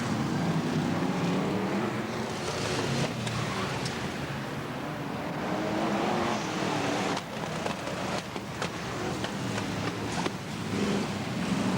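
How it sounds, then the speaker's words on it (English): BriSCA Formula 1 stock cars racing in a heat at Swaffham, a dense continuous engine roar with surging rasps and passing swells, heard from trackside amid crowd-like background noise. "Scene then set for BriSCA Formula 1 stock cars."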